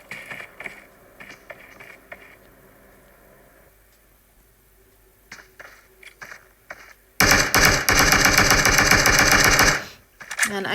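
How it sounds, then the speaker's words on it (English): Sustained automatic gunfire in a PUBG duo scrim match, scattered shots at first, then a loud continuous burst of rapid fire lasting about three seconds before cutting off. "And Avery is firing towards Fitzy"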